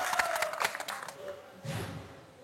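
Audience clapping and cheering after a comedic speech, a burst of scattered applause with crowd voices that fades, then a second swell of crowd noise, moderately distant.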